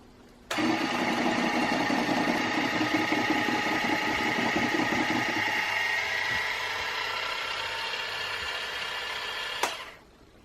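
An electric mixer whirring through chocolate buttercream, switching on sharply and running as a steady mechanical drone for about nine seconds before a small clunk and shutting off; no one speaks.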